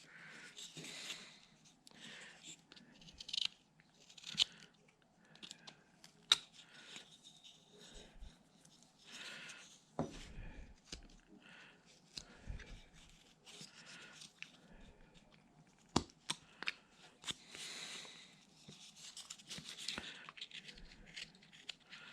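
A knife carving a wooden Christmas tree ornament, taking off hard edges with soft scraping and shaving strokes and occasional sharp ticks, faint and close with irregular rhythm.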